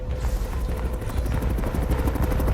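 Steady, rhythmic thumping of helicopter rotor blades, loud and constant throughout, with no talking.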